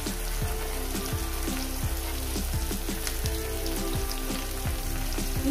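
Chopped onion hits hot ghee with bay leaf and garam masala, giving a loud, steady sizzle broken by regular scraping stir strokes about every half second throughout.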